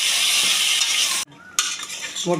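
Mutton curry being sautéed in a pan for Tamil-style kulambu, a loud close hiss and scrape of stirring that cuts out briefly, then resumes with clinks of a utensil against the pan.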